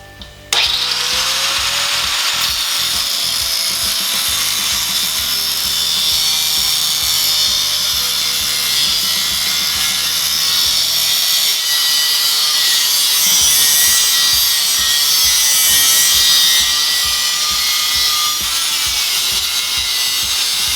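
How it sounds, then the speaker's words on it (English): A Yamaha Maxim XJ650 motorcycle muffler tip being cut off with a power tool, a loud, continuous grinding, rasping cut that runs steadily and close after a brief start. "I'm going to start by cutting off this tip here"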